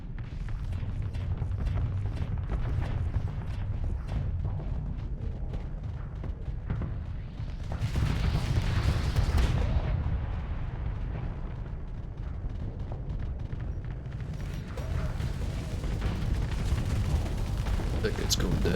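A space battle in the game Starsector rumbles with a constant barrage of explosions and weapon fire, with louder blasts swelling midway and again near the end, with no talk.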